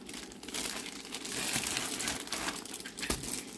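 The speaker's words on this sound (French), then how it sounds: "Donc ça venait dans un emballage papier comme ça." Paper packaging from a diamond painting kit order crinkles and rustles steadily up close during unboxing for a few seconds, no voices.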